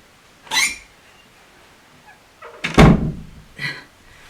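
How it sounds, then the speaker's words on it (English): A door swings and shuts with a solid thunk, preceded by a short creak and followed by a lighter knock, close by in a quiet room. "I just got to close the door"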